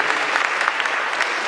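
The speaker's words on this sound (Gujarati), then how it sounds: "આપણે આ ગિરિનિજરના વિમોચન કાર્યક્રમને તાળીઓના ગડગડાટથી વધાવતા રહીએ." An audience applauds steadily at a college annual function during a publication launch. The clapping is dense, even and sustained, and no voices come through over it.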